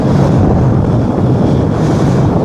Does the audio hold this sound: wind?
yes